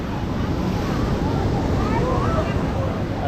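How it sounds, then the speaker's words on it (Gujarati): Roaring sea waves crash where the Gomti river meets the sea at Dwarka, a dense, continuous surf roar mixed with wind buffeting the microphone, with a voice faintly underneath. "સાહેબ ઘૂઘવાટા કરતો દરિયો અને આ બાજુ ગોમતી નદી અને અહીંયા છે દરિયો."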